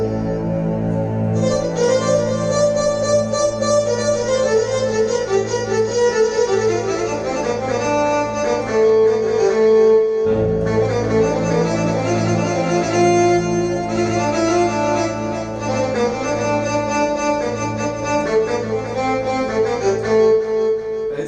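A synthesized violin tone from an Ensoniq SD-1 synthesizer plays a sustained melody with rich layered harmonics, steady and loud, with a brief pause midway before continuing.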